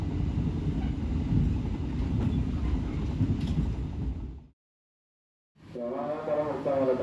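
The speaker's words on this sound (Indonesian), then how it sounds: "Kecepatan kereta api Gaya Baru Malam Selatan masih konstan di angka rata-rata 95 km per jam." Gaya Baru Malam Selatan passenger train running at about 95 km/h, a steady low rumble of wheels and carriage that cuts out abruptly for a second before resuming with faint voices.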